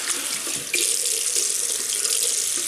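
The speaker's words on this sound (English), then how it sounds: "So, rinse hands." Tap water runs steadily into a sink as hands are rinsed during a wet shave with a Parker 22R double-edge razor and William's mug shaving soap, a continuous close hiss with a brief splash shift partway through.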